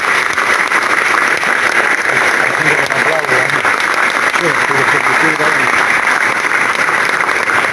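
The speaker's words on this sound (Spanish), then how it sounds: "Mirá quién me aplaude" Applause for a politician from workers, business owners and producers at a meeting in Mar de Ajó, a loud, steady wash of clapping lasting several seconds with voices mixed underneath.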